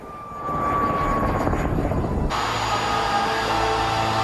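A military helicopter descending in autorotation: steady rotor and engine roar fills the clip, with a whining tone shifting and the sound changing abruptly midway.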